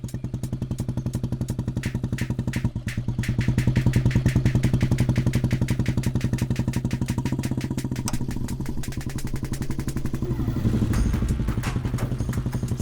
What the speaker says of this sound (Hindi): आप बुलेट बहुत अच्छी चलाती हैं।